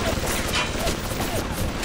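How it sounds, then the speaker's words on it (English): Gunfire inside the video game Bioshock, a dense, continuous crackle of shots heard steadily through the whole stretch at moderate level, muffled as if coming from outside the room, with no clear individual bursts standing out. "So there's a lot of gunfire outside this place."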